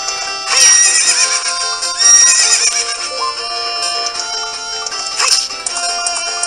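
Horse whinnies from Epona in a Zelda video game ring out twice over steady game music, loud and near, with a shorter whinny near the end.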